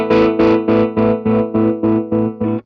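Guitar through a Chase Bliss Gravitas tremolo pedal set to square wave then sine wave, a sustained distorted chord chopped into about nine even pulses, each starting abruptly and sloping down before the next, loud and upfront.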